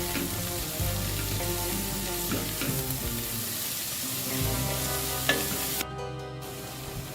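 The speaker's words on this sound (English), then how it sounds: "Add the leek after a minute and continue to saute." Leek, onion, garlic and bird's eye chili sauté in a pan for leek and potato soup, a steady close sizzle running throughout with intermittent scraping stirs and a brief clatter near the end, no voices.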